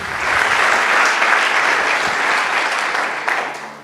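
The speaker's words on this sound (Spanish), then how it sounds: "¿Cuántos le regalan un aplauso al Señor bendito y amado?" A church congregation applauds in praise during a worship service, a dense, steady wash of many hands clapping at full volume for nearly four seconds without a break.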